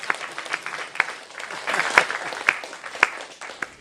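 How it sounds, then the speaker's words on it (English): Audience applause during a talk at Stanford's Decision and Ethics Center: a crowd claps steadily, with sharper individual claps standing out, moderately loud for a few seconds. "That is worthy of applause."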